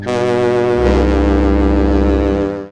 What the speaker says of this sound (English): That sounds like the Lifebuoy foghorn.